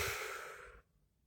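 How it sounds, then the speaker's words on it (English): A single long, breathy exhale, close and soft, that trails off to quiet after most of a second. "Take a deep breath."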